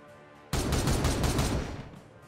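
Gunfire from soldiers in the strategy video game Warhammer 40,000: Regicide: a sudden loud burst of massed shots that holds steady for about a second, then tails off into quieter ambience.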